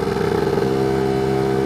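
A Lambretta scooter fitted with a BGM PRO MZ30 exhaust cruises at about 40 km/h, its two-stroke engine droning in a loud, steady buzz with a slight shift in tone partway through.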